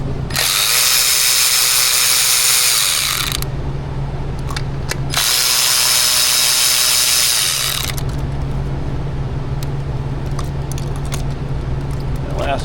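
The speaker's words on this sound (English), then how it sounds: "Next up, we'll get the 4 ignition coil bolts removed." A power tool whirs loudly up close in two long bursts, backing out the ignition coil bolts on a Ford 5.4 engine, with quieter clicks and ratcheting in between.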